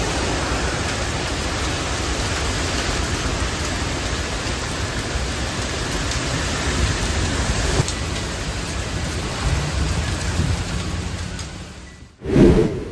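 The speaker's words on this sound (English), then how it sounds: "A nightmarish evening as the El Derecho storm moved into the Houston area on the night of May 18th, with winds up to 100 mph." Heavy rain roars steadily during a derecho storm in Houston with winds up to 100 mph, a dense continuous wash of downpour and wind that cuts off abruptly near the end with a brief thump; no distinct thunder stands out.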